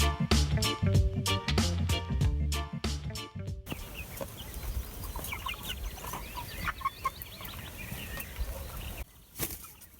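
Young meat chickens under seven weeks old cluck on a permaculture farm, a busy chorus of short overlapping clucks and chirps at moderate distance, with a brief burst of wing flapping, preceded by rhythmic percussive music.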